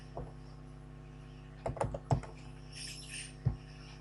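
Several keystrokes tapped on a computer keyboard while entering a disk-check command, given as a short cluster of close, crisp clicks and then a single later tap over a faint steady hum.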